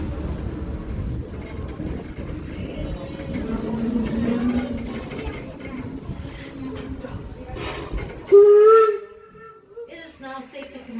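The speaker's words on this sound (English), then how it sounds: "give us the sound of a single whistle that lets us know it's safe to come off the train" A single steam train whistle sounds at a station stop at Greenfield Village, a loud sustained tone rising out of rumbling background noise near the end, followed by quieter ambience.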